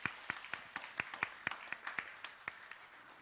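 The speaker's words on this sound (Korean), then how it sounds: "이럴 때도 좀 박수 한번 쳐주세요" A congregation claps in a church during a sermon: a sparse, uneven patter of individual hand claps, distinct sharp slaps spaced irregularly across a few seconds, fairly close and without voices.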